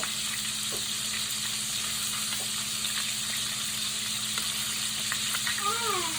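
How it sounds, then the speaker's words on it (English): Homemade Italian meatballs fry in a pan with a steady, close sizzle and light crackle that runs unbroken throughout, with no talking. "You fry them until they're brown on the outside."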